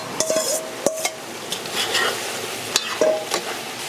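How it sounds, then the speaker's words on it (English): Pork with sweet peppers and carrots frying in a pot with a soft continuous sizzle, punctuated by clinks and scrapes of a utensil stirring against the pan, no talking. "It's been frying up for about 3 minutes."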